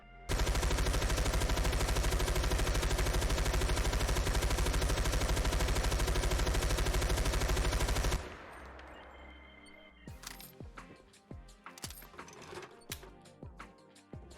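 A belt-fed light machine gun in Fallout 4 fires in one loud, unbroken burst for about eight seconds, then stops, leaving a decaying echo and scattered mechanical clanks and clicks.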